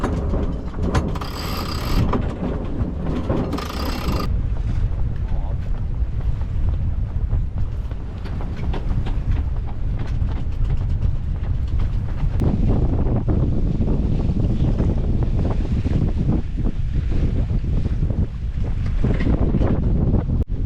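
Strong wind buffets a sailboat out on Lake Erie during solo sailing, with a steady loud rush over creaking rigging and mechanical knocks throughout.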